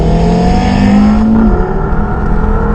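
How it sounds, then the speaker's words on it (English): A 395bhp Audi RS3 accelerates hard on a wet road in pouring rain, its engine loud and close with a rising, droning roar that holds steady for a few seconds. "I am actually driving the RS3"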